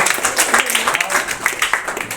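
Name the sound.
applause from school audience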